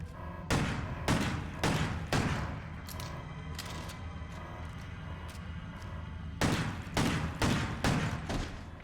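Video game gunfire in Crow Country: bursts of loud, sharp shots in quick clusters, a string of blasts early on, then a pause of lingering rumble before another rapid volley.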